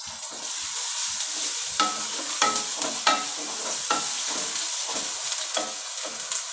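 Green chillies with ginger and garlic paste fry in a pan for a village-style potato and carrot dish, giving a steady crackling sizzle broken by repeated scraping stir strokes, close up with no voices.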